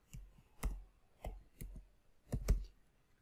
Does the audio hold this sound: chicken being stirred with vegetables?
no